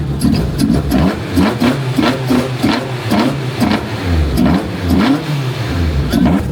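A drift car engine runs steadily up close, revving in repeated pulses with a throaty, rumbling tone and no talking.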